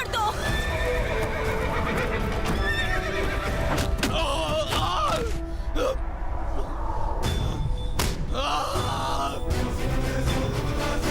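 A horse neighs and whinnies repeatedly amid clip-clopping hooves, loud and close in a dramatic film scene, with voices mixed in.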